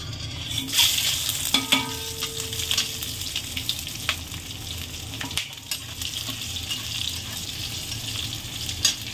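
Whole spices (star anise, mace, cardamom, dried red chillies, chui and cumin) hit hot oil for chicken kosha, giving a continuous crackling sizzle with occasional stirring clinks and pops, close and fairly loud, with no talk.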